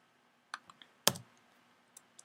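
A few isolated keystrokes on a computer keyboard while entering commands into a Cisco router's IOS terminal, sharp clicks spaced irregularly with one louder key press in the middle, close and quiet.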